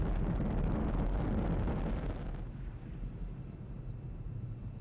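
SpaceX Falcon 9 rocket launch with nine Merlin engines on the first stage, a loud continuous roar and crackle that fades slightly as it continues, heard alone without talking.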